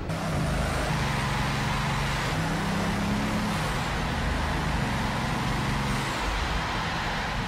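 Bugatti Veyron 1,001-horsepower engine running in an enclosed test chamber on a bare chassis, a loud steady droning roar with shifting tonal hum.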